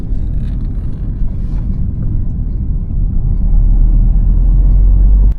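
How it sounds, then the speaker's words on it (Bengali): A car descends a mountain road in East Sikkim in first gear under engine braking, its engine a loud, close, continuous low rumble that swells slightly toward the end. "যতই ইঞ্জিনে আওয়াজ হোক আমি কিন্তু ফার্স্ট গিয়ারে ইঞ্জিন ব্রেকিং ইউজ করেই নামবো"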